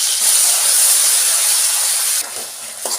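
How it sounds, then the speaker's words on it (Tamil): Cinnamon bark and cloves sizzle in hot oil for an egg gravy, a steady close hiss that drops in intensity near the end. "ஒரு பட்டை, 2 கிராம்பு மட்டும் போட்டிருக்கேன். பொரியட்டும்."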